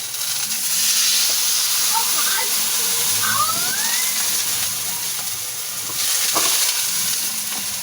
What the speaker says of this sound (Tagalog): Kuluan po natin muna ng tubig bago natin ipipirito.